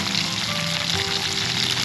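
Eel pieces fry in hot oil to make crispy fried eel, a dense, loud, continuous sizzle and crackle filling the whole moment without a break.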